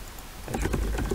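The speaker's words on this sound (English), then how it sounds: "Somebody's typing." Rapid keyboard typing in the video game Emily Is Away, a quick run of soft clicks starting partway through and continuing to the end, close and moderately loud.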